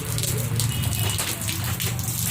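Water from a gutter splashes and gushes steadily, a close, rain-like spattering rush that stays constant with no break.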